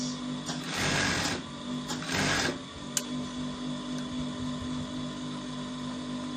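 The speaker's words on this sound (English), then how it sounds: "let's sew the 1/2 inch down to the end. Try to sew this." A sewing machine stitches a half-inch seam down the edge of fabric panels for an agbada, running in two steady bursts of motor whir, then pausing with a faint hum and a click.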